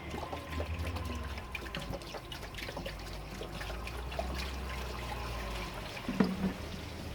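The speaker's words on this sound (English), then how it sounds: "I'm going to flood this plenum chamber first and see where it gets us." Water poured into a car's plenum chamber while checking for a large leak: a steady trickling, pouring wash runs throughout, with a brief louder splash near the end.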